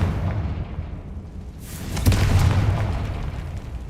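In a video game, the Confringo spell sets off an explosion: a rushing whoosh swells midway into a loud, sustained boom with a rumbling tail, heard alone without voices.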